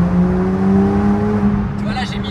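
A sports car with a Mercedes engine and Mercedes gearbox accelerates from inside the cabin, a steady loud engine drone holding under continuous talk, with a rising whine late in the sound.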